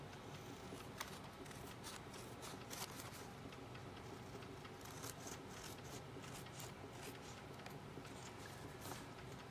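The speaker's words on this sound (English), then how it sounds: "give this a quick fussy cut" Scissors snipping around a paper card in a fussy cut for a floral garden-themed card, with small irregular clips and rustles close by over a steady soft room hiss, no talking.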